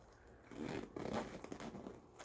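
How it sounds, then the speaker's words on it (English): A zipper on a small bag's pocket is pulled open in a few quick close rasping strokes, with no talking. "And all of them are functioning zippers."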